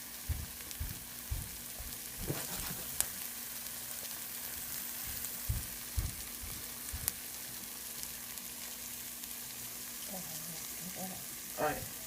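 Bagel with cheese frying in a pan as the cheese melts, a steady soft sizzle with scattered low pops and stirring bumps, close and fairly quiet throughout.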